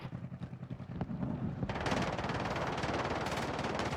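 Rapid automatic gunfire in a multiplayer shooter game with akimbo pistols, dense overlapping bursts that grow louder and more continuous after a short opening run of pulses, with no talking.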